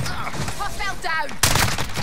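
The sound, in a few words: gunfire in video game Call of Duty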